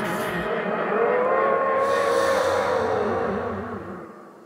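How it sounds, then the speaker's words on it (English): A caribou's long, wavering scream-like cry glides and holds over a dense rumbling wash, fading out toward the end. "This is the sound of a caribou scream that I used many"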